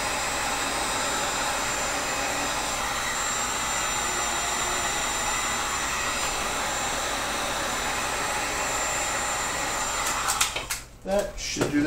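Heat gun blowing hot air onto PVC for a hand-axe blade, a loud steady roaring hiss that runs nearly unchanged before a few clattering handling knocks at the end.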